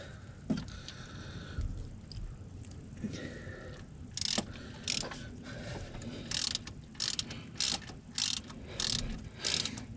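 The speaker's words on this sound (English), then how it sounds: "M12 head here. I'm going to torque these down." Ratchet torquing M12 head bolts on a Ford 6.0 diesel engine, a run of quick metallic clicking bursts in the second half over a low workshop hum, close and fairly loud.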